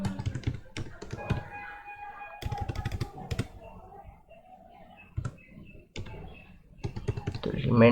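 Someone types Q-Basic code on a computer keyboard, with bursts of sharp key taps and clicks, some pauses between them and a few louder strokes, while a person talks intermittently.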